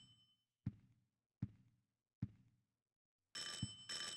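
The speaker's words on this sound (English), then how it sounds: "The doorbell's ringing?" Doorbell in the video game Silent Hill 4: The Room, preceded by three evenly spaced dull thuds, then two bright sustained chime rings close together at the end, with no talk.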